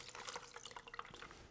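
Water drips and trickles from a rag being wrung out over a bucket while gluing up wood panels, a quick run of small close splashes and patters lasting the whole moment.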